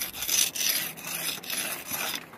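Mortar is pressed and rubbed into the joints of new brickwork with a pointing bar, a close, continuous gritty scraping in short overlapping strokes, heard alone.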